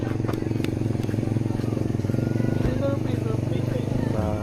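A loud motorcycle engine roars close by on a steep road near a campsite, a throbbing, rough exhaust note that runs steadily throughout.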